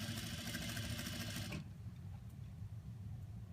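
An overlock sewing machine runs fast and steady for about a second and a half, stitching the neckline seam of a knit v-neck, then cuts off, leaving a low motor hum.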